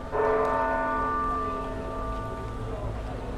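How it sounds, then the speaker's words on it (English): The bells of Barcelona's Sagrada Familia ring out with a sustained, resonant tone that slowly fades, heard at moderate distance over faint background noise. "You hear the bells."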